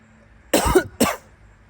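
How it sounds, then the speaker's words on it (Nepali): Two sharp coughs from one person, close to the mic, the first longer and the second short and clipped, against a quiet background with no talking. "खोकी लागेको छ"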